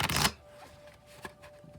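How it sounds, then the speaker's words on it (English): A tarot deck being shuffled, a quick riffle of cards up close at the start, followed by quieter slides and taps of the cards. "I'll shuffle until I feel like the deck is ready"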